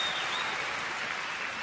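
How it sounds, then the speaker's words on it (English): Brief burst of steady clapping from an audience during an interview, dense and even across the short moment. "Round of applause."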